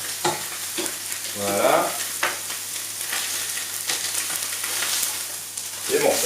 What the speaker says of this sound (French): Je vais en profiter pour commencer à faire revenir mes oignons juste là, à côté.